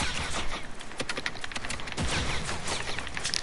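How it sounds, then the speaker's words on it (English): Dense, overlapping bursts of gunfire in the video game Fortnite pour in from several directions at once, rapid cracks and volleys running without pause for the whole stretch. "I'm getting shot at from other directions"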